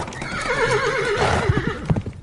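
A wild horse whinnies in a long, wavering neigh close by, with hooves clip-clopping beneath it toward the end.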